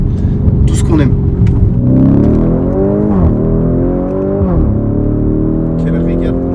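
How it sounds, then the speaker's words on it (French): Audi engine, praised as one of the brand's best, rumbles loudly and steadily with rising and falling revs through gear changes, heard from inside a sporty car while someone speaks over it. "Là, d'origine, ça ronfle."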